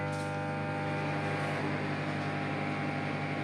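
A microwave oven running while it cooks basanti pulao, a steady low mechanical hum with a faint fan whir that stays even and uninterrupted, with no talking.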